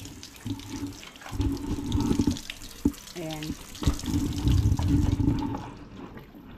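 Water running steadily from a tap or hose, splashing into a basin at a construction site, with clinks and a brief spoken word over the flow.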